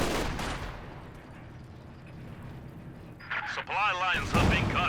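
Katyusha rocket artillery barrages in the Company of Heroes 2 strategy game, a heavy burst of booming fire at the start, then distant rumbling, followed by another surge of blasts and whooshes near the end, with game voices and effects mixed in.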